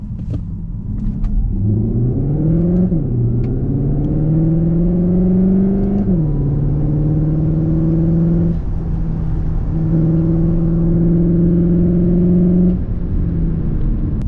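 A Cupra Formentor SUV accelerating hard. The loud, close engine note climbs in pitch through several gear changes, then holds a steady drone, with no talking.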